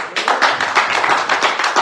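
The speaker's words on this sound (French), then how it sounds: "maintenant applaudissez pour Yeshua Mashiach" A crowd applauding steadily at a Messianic conference, dense overlapping claps filling the whole stretch at a fairly loud, even level.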